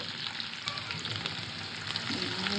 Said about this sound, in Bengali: পেঁয়াজ কুচিটা সুন্দর করে একটু ভাজি করে নেব।